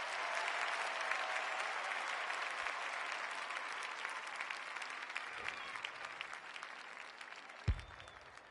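A crowd at an amateur reserves football match cheers and applauds steadily throughout, a broad sustained roar from the stands with one sharp thump near the end.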